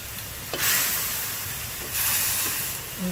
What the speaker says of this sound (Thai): ผัดจนกระหล่ำปลีเริ่มมีความสุก